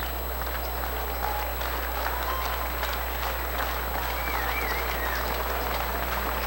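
A baseball crowd cheers and applauds for the Winnipeg Goldeyes as they trail 4-1 against the Lincoln Saltdogs, a steady, distant wash of clapping and crowd noise with a constant low hum underneath.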